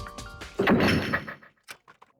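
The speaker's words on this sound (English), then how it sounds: "Ah, the door, it just locked on its own." A door in the Danganronpa game swings shut with a solid thunk, followed by a few short, sharp clicks as it locks itself, close and clear with no talk.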